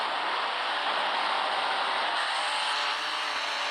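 A loud sports car engine in a video game roars as a steady, dense mechanical rasp, holding constant for a few seconds with no talk over it.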